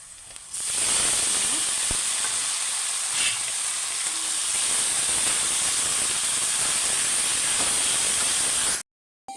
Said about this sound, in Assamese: পিঁয়াজ জ্বলাকেইটা ভালকৈ সিজি যোৱাৰ পিছত মই এতিয়া মাংসখিনি দি দিম ইয়াতে